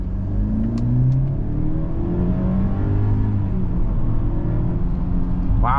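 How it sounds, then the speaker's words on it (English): A 2024 Mercedes-Benz GLE 350 accelerates from inside the cabin, its engine note a smooth, low rising drone with gentle pitch sweeps as it gathers speed, steady and unhurried throughout. "And let's do an acceleration."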